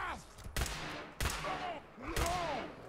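Three sharp gunshots from a new gun in Fallout 4, spaced roughly evenly and each followed by a short tail, with bits of game sound between them.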